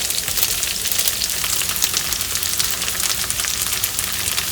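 Food fries on high heat in a non-stick pan on an RV stove, giving a steady, dense, close sizzle that fills the whole stretch with no talk.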